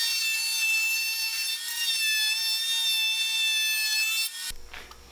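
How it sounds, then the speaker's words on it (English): A router on a router table rounds over the edge of a wooden vase with a steady, high whining cut lasting several seconds. The whine stops abruptly, leaving a short rustle. "I'm gonna go ahead and route it and round it over on the router table."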